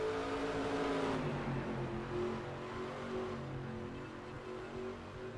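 Race cars circle a speedway in the NR2003 racing game, a steady blended engine drone with a slight pitch drop partway through, continuous and moderately loud with no talking over it.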